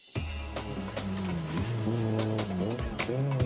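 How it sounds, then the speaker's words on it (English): A Citroen C2 R2 rally car drives a stage of the Rallye International du Valais, its engine note rising and falling steadily through gear changes, loud and continuous throughout, with commentary running over it. "This is Florin Tansesu and Julian Nicolescu from Romania in the Citroen C2 R2, not able to match the pace of the leaders"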